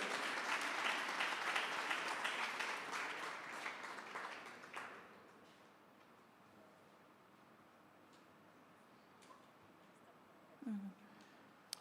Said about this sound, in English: Let's give Dad a big round of applause